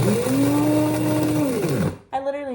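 An electric kitchen grinder grinds food with a loud, steady motor whine that winds down and stops, followed by a brief voice speaking.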